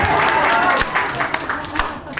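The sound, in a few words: a few claps from the audience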